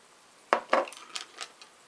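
A small container of E-Ink ink, pigment settled at the bottom of the bottle, is stirred: a few distinct light clinks and taps close up, spaced irregularly in an otherwise quiet room.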